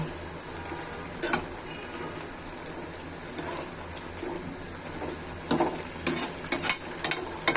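Lentil dal with jute greens is stirred in a pan, soft scraping and gentle bubbling under a faint steady hum, with a few louder spoon knocks and scrapes bunched toward the end.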